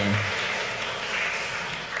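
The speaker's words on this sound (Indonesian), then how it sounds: "Boleh kita beri tepuk tangan untuk kedua mempelai." Applause for the bride and groom at a church wedding ceremony, a soft, even patter of clapping from the congregation, moderately distant and continuous.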